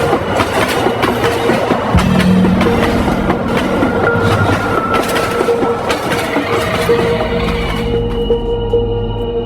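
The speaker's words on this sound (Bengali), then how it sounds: "কিছুক্ষণের মধ্যেই একটা তীক্ষ্ণ আওয়াজের সাথে ট্রেন প্ল্যাটফর্মে এসে উপস্থিত হলো।" A train pulls into a platform, a loud, close rumble of rolling wheels and clattering carriages with thin metallic squealing threaded through.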